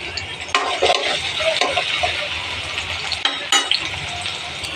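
Spices with cinnamon and cardamom fry in a pan, a close crackling sizzle with a few sharp spatters and stirring taps over a low background hum.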